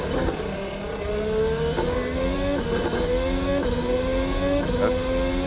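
A 2022 Formula 1 car engine in the Assetto Corsa racing sim screams through repeated upshifts, its high whine rising and dropping in a steady stepped pattern, loud and close with no voices.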